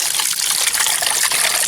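Water gushes steadily from a bamboo hose fed by a creek, outdoors on a rainy day, a constant close, loud splashing flow with no talk.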